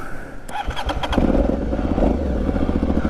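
An Aprilia Shiver 750 motorcycle engine, prone to dying out, cranks with a few quick bursts, then catches and settles into a steady, close, pulsing idle.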